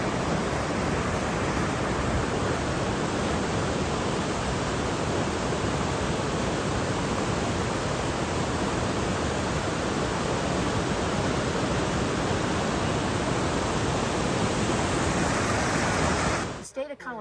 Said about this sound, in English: So we're at Fish Creek Falls in Route National Forest in Colorado.